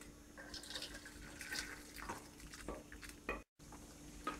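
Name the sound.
straining curry leaf soup through a strainer into a glass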